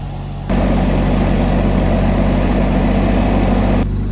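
Bobcat S160 skid steer engine running steadily at a constant, smooth drone, loud and close, starting abruptly and cutting off after a few seconds, with no talking.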